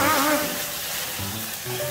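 Steady broadband sizzling from beef tongue frying in a hot pan, continuous and close, with faint clinks of a utensil.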